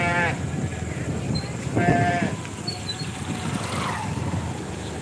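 Sheep bleat loudly nearby at a weekly village market in the rain, a couple of wavering calls rising over steady rumbling background noise, with fainter bleats further off.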